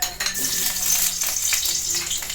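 Onions fry in a hot pan, a close, dense sizzling hiss that holds steady throughout with faint stirring clinks and no talk.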